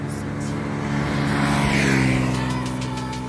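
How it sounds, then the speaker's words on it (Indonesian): Motorbikes and cars on a busy main road at night outside a cafe on the route between Banda Aceh and Medan, a loud continuous engine rumble swelling as a vehicle passes close by. "Jalan raya di depan cafe tidak pernah sepi dengan kendaraan bermotor, roda 2 atau roda 4."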